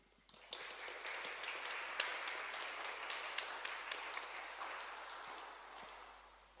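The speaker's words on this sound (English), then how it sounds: "Please join me in a little applause for Minister Todor Tagarev, Defense Minister" Applause from an audience at a Munich Security Conference side event at Café Luitpold, welcoming Bulgaria's defense minister: steady, fairly faint clapping from a seated crowd that fills the whole stretch and tapers slightly toward the end.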